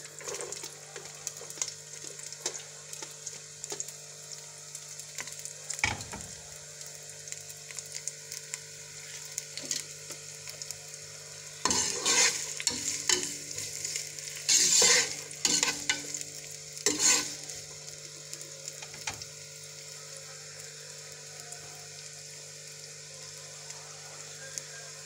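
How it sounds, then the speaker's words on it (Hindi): Carrots fry in hot oil for Kabuli pulao, giving a steady low sizzle with occasional stirring scrapes that grow busier midway, with no one talking. "सबसे पहले यहाँ पर ऑयल गर्म करने के बाद इसमें गाजर जो है ये शामिल कर दें।"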